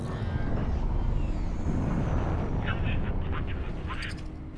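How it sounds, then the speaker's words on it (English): Space shotguns in the X4 space game fire in a rough burst of booming blasts over a dense, continuous engine-like rumble, with short crackling bursts near the end. "I got space shotguns!"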